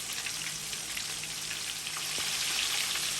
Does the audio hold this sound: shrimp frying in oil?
yes